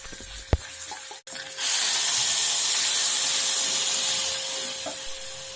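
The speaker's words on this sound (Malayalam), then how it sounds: "ഞാൻ അടുപ്പത്ത് നമ്മുടെ ദോശയ്ക്കുള്ള ചട്നിക്ക് വേണ്ടിയിട്ട് കടുകൊക്കെ വറുത്തിടാൻ പോവാണ്" Mustard seeds go into hot oil on the stove for a dosa chutney. After a couple of sharp clicks, a sudden loud hiss and sizzle bursts up, holds steady and slowly fades, with no speech.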